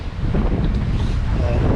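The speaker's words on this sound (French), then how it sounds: "Nous sommes toujours dans des conditions de mer et de vent assez fortes" Strong wind at sea aboard a sailing boat during a transatlantic crossing, heard as a dense, continuous roar and buffeting rumble that fills the whole moment, loud and close, with no voices.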